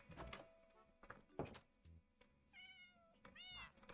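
Short game meows from a Minecraft cat, faint and close, come in a couple of brief calls between soft thuds and clicks, with no speech.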